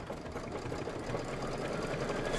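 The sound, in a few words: embroidery machine stitching chenille basting stitches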